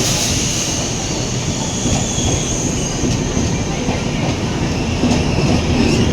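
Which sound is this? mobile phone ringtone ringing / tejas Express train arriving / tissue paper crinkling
tejas Express train arriving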